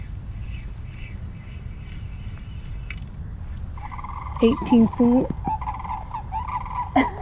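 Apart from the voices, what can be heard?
birds squawking near flooded home waters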